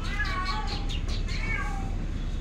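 A cat meows repeatedly in close, clear calls over a steady low background rumble, with several short rising and falling meows in quick succession.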